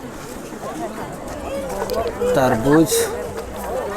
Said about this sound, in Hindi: होटल में तो बहुत ज़्यादा भीड़ लगा है